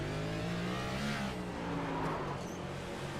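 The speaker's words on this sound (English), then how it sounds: "Let's listen on board, actually, with the 24 car." Onboard engine of the number 24 Next Gen Cup car at Dover in a racing video game, held in second gear: a loud, steady, buzzing drone with shifting harmonic pitch throughout and no talk.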